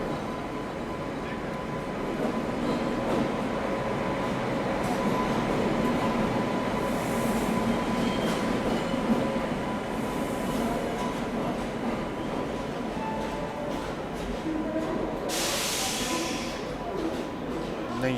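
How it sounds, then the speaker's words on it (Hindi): An oncoming train rushing past, heard from inside a moving passenger train on an Indian rail journey: a steady broad rumble and clatter with brief hissing bursts as the cars sweep by, with faint voices underneath. "सामने से कोई तो ट्रेन आ रही है"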